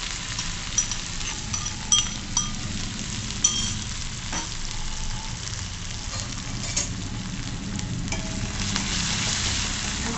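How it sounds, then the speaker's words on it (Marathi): Coarsely crushed chili paste with cumin and curry leaves fries and is stirred in hot oil in a pan, a steady close sizzle broken by occasional spoon clinks, with no talking. "चांगलं तेलामध्ये परतवून घ्यायचं कढीपत्ता"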